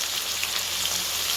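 Eggplant and onions fry in a pan with a steady, dense sizzling hiss that holds evenly throughout, with no voices over it.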